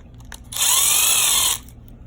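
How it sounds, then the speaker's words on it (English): A power drill drills out parts of an Arrma Typhon 6S RC car, one loud high-pitched whirring burst of about a second, close by, over faint background noise. "I drill everything out pretty quick"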